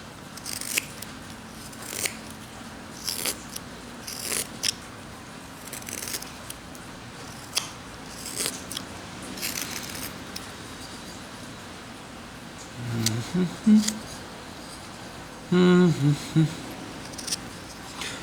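A knife whittling a wooden hobo figure from a block of wood, trimming the oversized shoes, with faint scattered cuts and scrapes under a quiet room, a few sharper, louder shaving strokes near the end.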